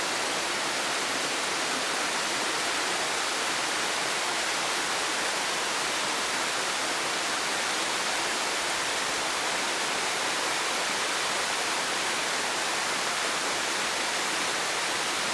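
A mountain waterfall and stream on a trail near Fancy Gap, Virginia, rushes in a steady, dense broadband roar. It stays loud and unbroken throughout, with no voices over it.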